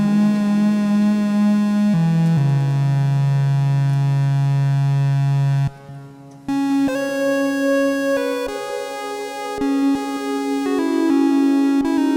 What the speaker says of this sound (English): the delay is going to work with the reverb much smoother for this legato play